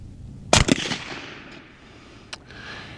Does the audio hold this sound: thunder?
no